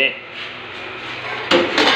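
A metal cooking pot is taken out and set down in a village kitchen, giving two short loud clanks near the end, with softer handling noise before them.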